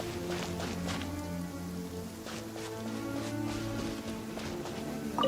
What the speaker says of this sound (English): Rain? Ugh, my hair and feathers are gonna get soaked.